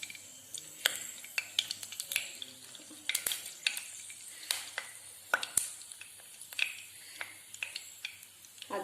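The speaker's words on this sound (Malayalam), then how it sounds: "പാനിൽ എണ്ണ ഒഴിച്ച് ചൂടാകുമ്പോൾ കടുകിട്ട് പൊട്ടിക്കുക" Mustard seeds splutter in hot coconut oil in a pan while Kerala-style beans mezhukkupuratti is being made, giving faint, scattered sharp pops and crackles over a soft, quiet sizzle.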